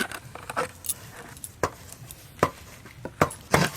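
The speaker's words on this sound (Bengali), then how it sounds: "আমারও নারকেল কোটা হয়ে গেল।" Coconut is grated by hand at close range in a kitchen where palm-fruit sweets are being made, giving sharp, irregular scraping strokes that come in quick bursts against a quiet background.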